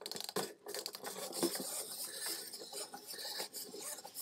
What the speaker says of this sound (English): Just give it a couple winds.